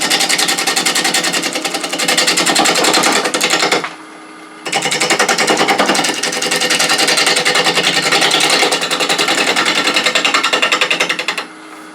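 A wood lathe runs loud and close as it spins a bug-infested cherry burl at about 600 rpm. The blank rattles with a rapid, rough throb. The machine drops out briefly and then starts again.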